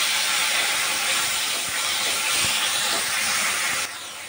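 Turmeric and salt frying with spices in a pan for a fish and komli greens dish, a steady loud hissing sizzle that runs throughout and drops a little near the end.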